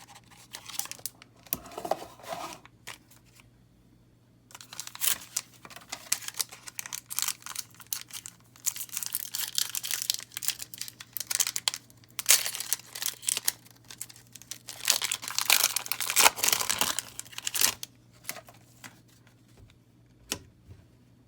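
A Magic: The Gathering Rivals of Ixalan booster pack is torn open and its cards handled, with bursts of crinkling foil wrapper and tearing separated by quiet gaps over a low steady hum, close and fairly soft.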